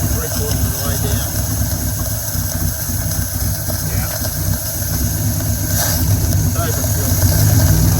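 A 1957 Ford F250 engine idling after restoration, running steady and close under a voice, with a constant low rumble and a slight rise in level toward the end.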